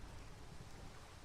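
Steady rain falling at night in Minecraft, a continuous broadband patter at a constant level with no other sounds on top.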